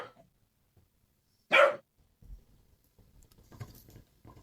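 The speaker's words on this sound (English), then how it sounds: "He's barking at me because he's dropped his chew on the floor" A pet dog gives one sharp, fairly loud bark in a quiet room, followed by faint shuffling and light tapping sounds nearby.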